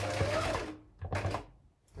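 A sewing machine stitches a quilt block in short bursts of rapid, close mechanical whirring, with brief pauses between runs.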